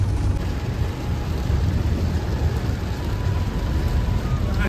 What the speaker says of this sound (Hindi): देखै छियै बारिश शुरू भ गेलै हन